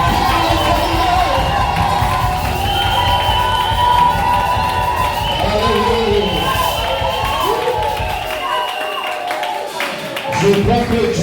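A church congregation shouts and cheers for joy, a loud, dense crowd roar that swells and dips, with voices and some clapping mixed through it.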